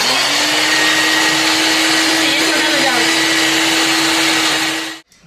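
A kitchen mixer grinder whirs loudly and steadily at high speed for about five seconds, then cuts off abruptly.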